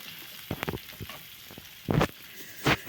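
Boiled green beans fry with garlic in a pan, giving a soft sizzle under a few distinct scrapes and clatters of a utensil, with louder stirring bursts toward the end.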